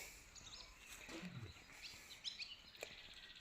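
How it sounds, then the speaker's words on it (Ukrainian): Thin, high bird chirps and tweets in a Ukrainian village, scattered over soft outdoor background noise, fairly faint and distant, with a brief lower rumble partway through. "А пташки то співають."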